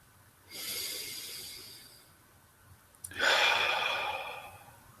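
Deep meditative breathing, close and soft: a long airy inhale, a brief pause, then a stronger, fuller exhale, with no voices.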